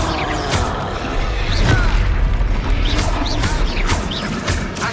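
Confringo fire spell blasts in Hogwarts Legacy combat, a run of loud booming explosions and crashes every second or so, layered over game effects and battle noise.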